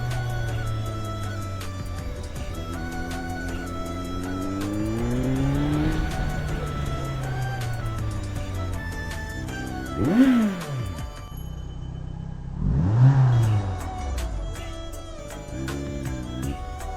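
A Kawasaki Z900 sport motorcycle engine idles, then climbs in a long rising rev before dropping back, followed by two sharp loud throttle blips and a return to idle.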